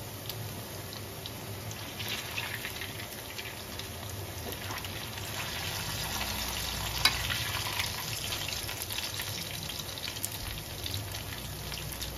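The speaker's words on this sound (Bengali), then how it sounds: "এইভাবে ভাজা হবে" Idli-dhokla batter pieces fry steadily in a pan, a continuous crackling sizzle with occasional louder pops and no voices.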